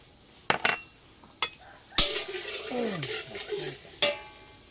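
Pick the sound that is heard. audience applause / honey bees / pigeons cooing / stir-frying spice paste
stir-frying spice paste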